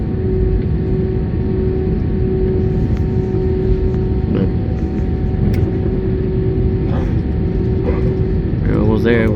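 A Spirit Airlines jet taxis on a wet runway, heard from the cabin as a steady loud engine rumble with a constant whine, while people talk over it.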